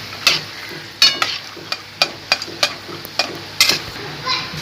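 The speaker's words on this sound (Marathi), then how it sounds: "शेंगदाणे आपल्याला मीडियम हीटवर छान भाजून घ्यायचे" Peanuts roast over medium heat in a pan while being stirred, giving a run of sharp, irregular scraping clicks roughly every half second over a soft, continuous sizzle, close and fairly loud.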